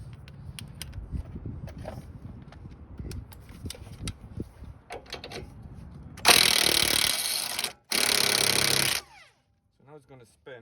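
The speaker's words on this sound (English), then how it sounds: "I'm just gonna hit over a power tool, see if we can" A power tool works on a rusted, seized rear sway bar link bolt on a 2012-2017 Toyota Camry, running in two loud, close bursts about a second and a half each, after light clanks and tool handling.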